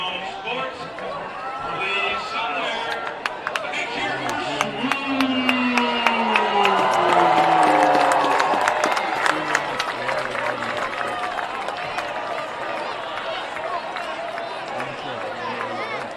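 Crowd noise fills the stands at a night high school varsity football game between Marple Newtown and Strath Haven, a steady murmur of chatter with scattered claps and cheers that swell toward the middle, and a large combined band of middle and high school players present.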